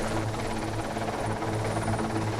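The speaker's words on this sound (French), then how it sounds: "L'hélicoptère doit positionner la pièce très exactement en place au centimètre près." A helicopter hovers overhead, holding a dome piece in place at an animal park, its rotor producing a loud, steady, pulsing drone that fills the whole stretch with no voices.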